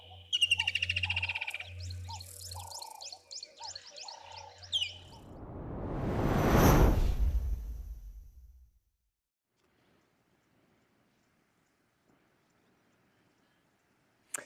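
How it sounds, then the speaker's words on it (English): A Natal spurfowl calls in a series of harsh, rhythmic cackling notes, loud and close over a low steady hum. A rushing noise swells and fades, then it falls nearly silent. "Nice to be able to show you this bird. Also, hear it calling there. Natal spurfowl."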